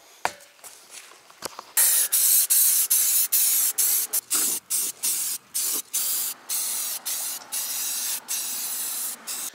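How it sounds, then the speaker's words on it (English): Aerosol can spraying metal etching primer onto chrome truck wheels, a series of close, loud hissing bursts, each lasting about half a second to a second, separated by short pauses, with no talking. "It's my favorite primer for wheels and bumpers and anything metal."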